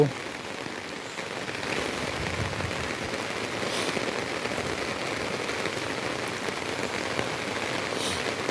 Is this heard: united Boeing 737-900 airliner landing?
no